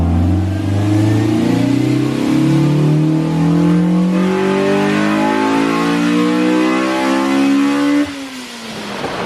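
A Honda Civic Si engine revs hard and steadily during a tuning session, holding a loud, rising drone for about eight seconds before the revs drop sharply and settle near the end.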